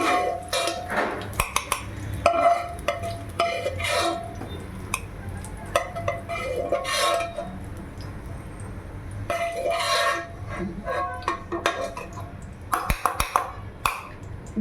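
A cooked vegetable rice mixture is scooped with a metal spoon into a mixer grinder jar, giving repeated clinks and scrapes of utensil on pan and jar at close range.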